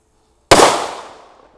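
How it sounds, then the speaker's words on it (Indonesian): A sunflower firecracker set off in water at a riverside gives a single sharp, loud bang after half a second of silence, then a rushing noise that fades over about a second. "Selanjutnya ini ada mercon sunflower ya. Ini mercon yang meledosnya banter-banter."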